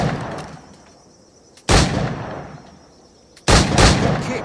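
Two loud, close firearm shots in Assassin's Creed IV Black Flag, each a sudden booming crack with a short decaying tail, spaced about two seconds apart over a low ambient background.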